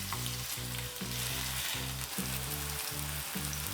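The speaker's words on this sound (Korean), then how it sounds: "프라이팬에 식용유 2테이블스푼, 다진 마늘 1테이블스푼, 물기를 제거한 감자를 넣고 볶아주세요." Potatoes and minced garlic stir-frying in oil in a pan give a steady, close sizzle, with a regular scraping stir roughly every half second running underneath throughout.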